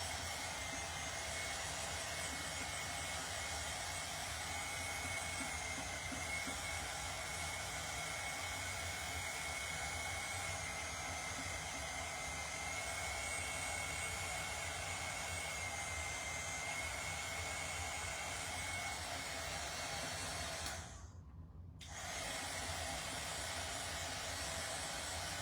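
Heat tool blowing hot air over wet ink on a fabric tea towel laid over a mat, a steady whooshing hiss that runs on and on, cutting out briefly near the end before resuming.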